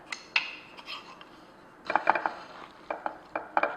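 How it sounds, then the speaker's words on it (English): Raw zucchini mac and cheese stirred in a bowl, a utensil scraping and clinking against the dish in short bursts with quiet pauses between. "And I'm going to stir it up."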